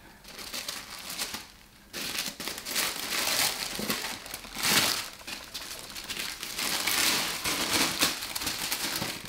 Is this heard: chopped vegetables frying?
no